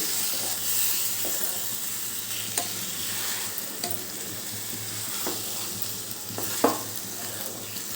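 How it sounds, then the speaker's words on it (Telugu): Mutton blood curry frying over a medium flame: a steady, close sizzle and hiss from the pan, broken by a few soft scrapes and taps of stirring, with no talking. "ఇలా మీడియం ఫ్లేమ్లో ఉంచుకుంటే చక్కగా వేగుతుంది ఇది"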